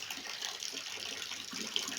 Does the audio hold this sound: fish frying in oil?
no